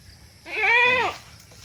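A goat gives a single loud, close bleat of about half a second in a farm pen, standing alone against a quiet background.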